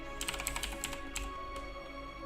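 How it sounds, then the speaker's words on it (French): Quick bursts of keystrokes on a computer keyboard as a username is typed, close and fairly quiet, in short uneven clusters with no talking. "On tape le pseudo."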